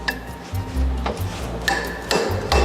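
Metallic clinks and knocks as a length of steel pipe is fitted into a pipe threader, a few sharp irregular contacts up close with low thuds between, no speech.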